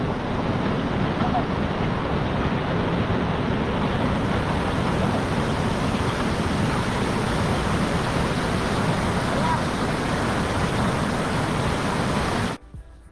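A river rushes along the trek to Devkund waterfall, with the falls further off, producing a constant, loud, broadband watery wash that cuts off abruptly near the end.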